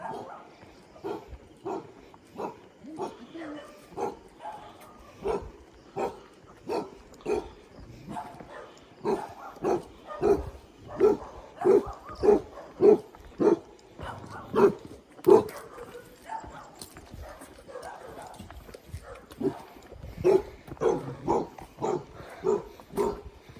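A dog barks repeatedly in short, steady bursts, fairly close, with a few faint voices in the background, at Minalungao National Park, Nueva Ecija.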